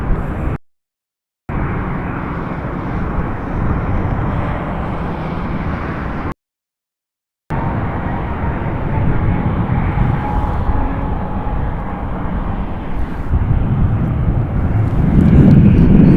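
A Sun Country airliner arriving at Harry Reid International Airport in Las Vegas makes a steady, broad engine roar that swells slightly toward the end, broken by two brief dropouts of total silence.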